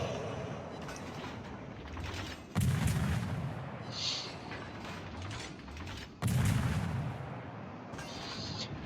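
Naval guns firing from warships in a naval battle video game, targeting a Fubuki destroyer: two heavy booming salvos a few seconds apart, with mechanical clanks and creaks between them.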